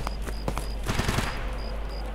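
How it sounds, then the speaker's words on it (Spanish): Distant gunfire echoes around dormitory buildings in Escape From Tarkov, a few sharp reports followed by a rapid burst of automatic fire, over a steady low hum and faint periodic beeps. "disparos en dormitorios."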